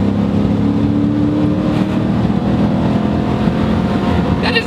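An SN95 Ford Mustang GT accelerating hard, its engine droning loud and steady close by, with the revs held up throughout and no talk.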